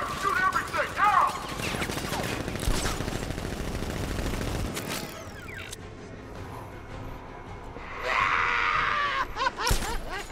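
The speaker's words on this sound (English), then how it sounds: "Open fire! Shoot everything! Now!" A gunfire volley in Batman Arkham Knight: dense rattling bursts of automatic fire with echoing impacts and shouting, easing into a quieter rumble before another burst of sharp shots.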